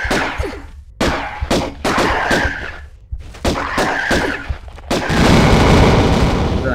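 Enemies blowing up in Tomb Raider: Unfinished Business, a run of sharp booming blasts and gunshot-like cracks with short gaps between them, ending in a long, loud rumbling explosion.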